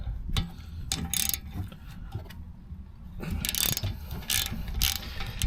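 A wrench working loose a brake rotor nut on a BMW G82 M4: a run of quick ratcheting clicks in bursts, close and fairly loud, with short pauses between.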